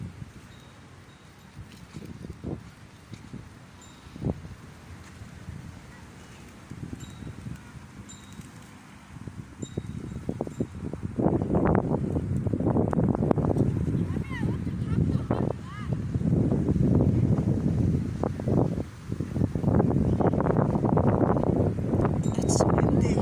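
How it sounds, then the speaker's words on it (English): Wind gusting outdoors at a spot where birds are being fed, buffeting the microphone as a loud, steady rumble that builds through the second half, under occasional voices. "It's windy."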